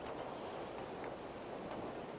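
Wind moving through longleaf pine trees in Alabama, a steady, soft, rushing hiss that swells slightly now and then, with no voices.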